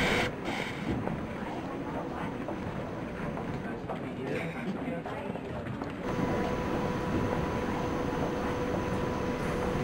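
A Berlin U-Bahn U7 train in the Trainz simulation game hums and rumbles steadily at moderate level, with a hiss of air and a tonal motor whine that shifts midway.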